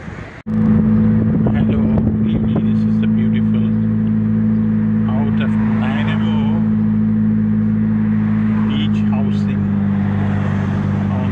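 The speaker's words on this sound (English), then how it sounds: "Boat is going there." A boat motoring by on the water in Nanaimo, British Columbia, a steady loud engine drone with strong low harmonics running through the whole stretch, with people talking over it.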